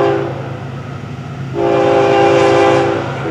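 FEC 105 train sounds its horn at an activated grade crossing, a loud sustained chord that swells and holds over the rumble of the passing train, close by.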